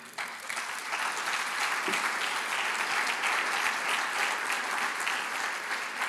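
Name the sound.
congregation applauding the Lord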